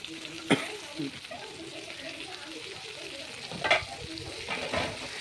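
Chillies, cabbage and tomato fry in a pan while being stirred, giving a steady low sizzle with a few sharp scraping clatters of the spoon against the pan.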